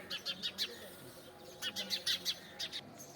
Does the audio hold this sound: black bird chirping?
yes